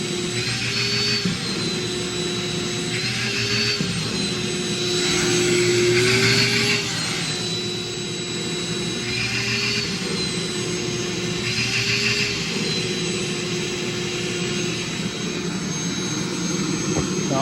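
Pressurized air blasts out through swimming pool plumbing lines, producing a loud, continuous roaring whoosh with a steady tone that surges and eases in regular waves, close up and with no voices.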